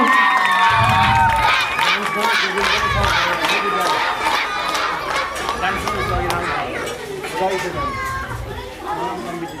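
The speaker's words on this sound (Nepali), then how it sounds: "बहिनी सबनम चौधरीलाई जोरदार तालीले स्वागत गरौँ।" A talent show audience applauds and cheers to welcome a young woman performer, a loud, dense wash of clapping and crowd noise with raised voices and chatter mixed in, running steadily throughout and easing slightly toward the end.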